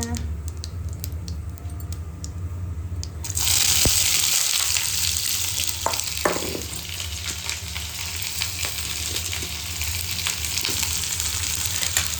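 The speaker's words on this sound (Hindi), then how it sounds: "उसमें डालते पहले जीरा, थोड़ा पकने देते हैं।" Cumin seeds fry in hot oil, a steady sizzle that jumps to a louder, brighter hiss partway through and then continues at that level with occasional clinks.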